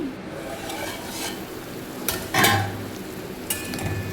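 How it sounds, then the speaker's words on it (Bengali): Paneer sizzles and crackles in a pan while a utensil stirs and scrapes, with a few sharp clinks against the metal. "দেখো পনিরটা প্রায় ভাজা হয়ে এসছে"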